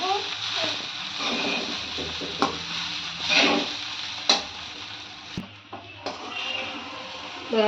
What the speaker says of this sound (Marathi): शाबू चांगला आपण असं परतवून घ्यायचंय